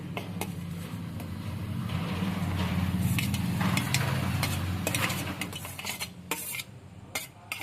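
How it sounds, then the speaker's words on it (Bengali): Grated carrot, chopped onion and green chilli being mixed into semolina in a bowl, a steady soft stirring rasp with light clinks of a utensil against the dish, close up and without speech. "আমি সুজির মধ্যে কিছু জিনিস মিশাবো"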